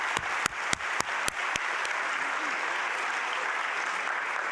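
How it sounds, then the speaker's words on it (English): Audience applause for Southwestern College students at the San Diego State of the County address: a steady wash of clapping, opening with a few sharp louder claps, then holding even and dense to the end with no talk over it. "I want to make sure we give a big round of applause"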